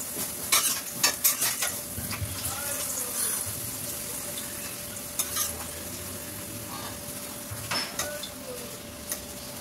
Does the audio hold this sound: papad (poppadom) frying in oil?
yes